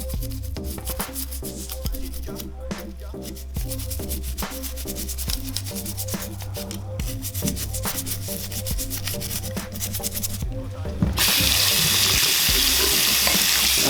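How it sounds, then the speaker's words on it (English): A toothbrush scrubs a dental retainer in quick, rhythmic back-and-forth strokes, a close, brisk bristly rubbing, followed near the end by a burst of running water. "take your toothbrush and you're gonna want to kind of just give it a good brush"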